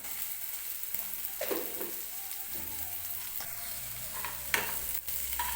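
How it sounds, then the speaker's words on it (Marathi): Onion frying in a pan while being stirred, for a dish of leftover chapati pieces; a steady close sizzle runs throughout with occasional scraping stirs and a clink near the end. "कांदा हलकासा गोल्डन रंगावरती भाजून घेतलाय मी बघा"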